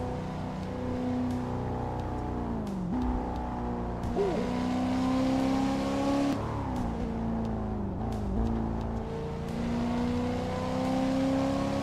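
Car weaving through traffic in a driving simulator game, its engine droning steadily with repeated pitch drops and rises as the gears shift, and faint whooshes from other vehicles passing.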